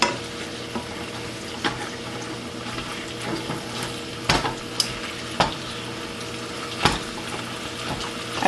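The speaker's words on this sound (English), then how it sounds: "We're going to drain this excess fat off of here before we put our peppers and onions in too." Excess fat drained from ground beef frying in a pan, with a steady sizzle and liquid pouring, broken by occasional scrapes and knocks of the pan.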